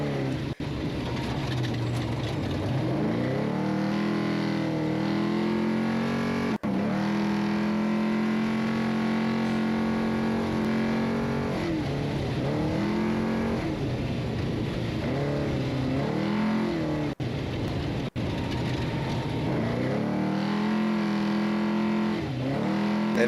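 An off-road race vehicle at the Baja Nevada race drives along a ridge and down toward a canyon, its engine droning steadily at a distance with rising and falling revs, cruising rather than pushing hard.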